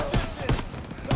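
Gunfire in the Call of Duty: WWII campaign, a few loud separate shot bursts about half a second apart over a busy battle background.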